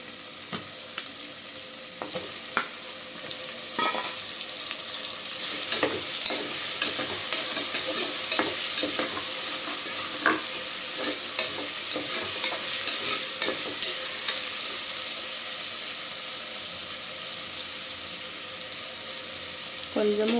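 Chicken pieces sizzle and fry in a pan for biryani, with steady crackling broken by repeated scraping stirs of a spoon against the pan, close and continuous throughout with no talking.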